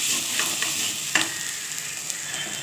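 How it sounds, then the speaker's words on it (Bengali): Poppy seed paste fries with ridge gourd and potato in a pan, giving a steady bright sizzle with a few soft stirring scrapes and one sharper clatter midway, no talking. "দেখুন এবার পোস্তটা আমি দিয়ে দিলাম, ভেজে নিয়ে এটা আবার দিয়ে দিলাম।"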